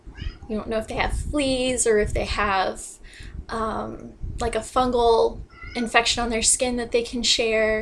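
A cat meows repeatedly in the background while a person talks continuously over it, the cries mostly buried under the voice.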